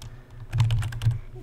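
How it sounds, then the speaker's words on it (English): Quick taps on a computer keyboard while entering a name in CAD software, a short close burst of several keystrokes over a low hum. "I'm gonna type in the same name"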